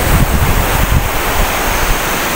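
Sea waves at Tung Fuk beach on Lantau Island, Hong Kong: loud, continuous surf roar with close, blustery wind buffeting the microphone throughout.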